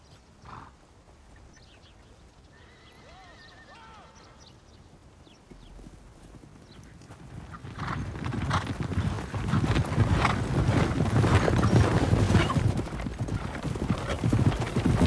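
Faint whinnying early on, then hooves clip-clop in a steady, growing rhythm as a horse trots closer and louder.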